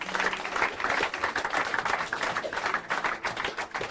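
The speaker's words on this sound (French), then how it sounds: "Est-ce que tu peux acclamer Jésus?" A church congregation at a French-language service applauds and cheers for Jesus, a continuous spatter of clapping mixed with raised voices that holds steady throughout.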